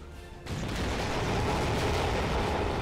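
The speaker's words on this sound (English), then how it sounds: "Some nades going in." Grenades exploding on the battlefield in the Scottish Domination strategy game, a sudden heavy boom swelling into a steady, thick rumble of blasts that stays loud and unbroken to the end.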